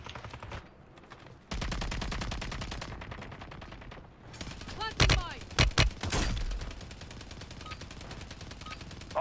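Gunfire in Call of Duty: Warzone on the Fortune's Keep map: a burst of loud, cracking shots mid-clip over a steady battle ambience, with a voice speaking in the game.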